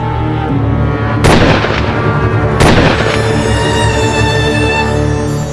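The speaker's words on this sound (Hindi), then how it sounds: "गोली चलाओ।" Two sharp, heavy gunshots crack out about a second apart in a crime drama, loud over a steady tense musical score.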